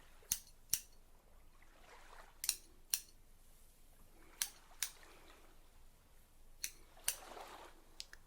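Scissors snip a man's beard up close, giving sharp crisp cuts, often in quick pairs, spaced across several seconds in a quiet grooming setting.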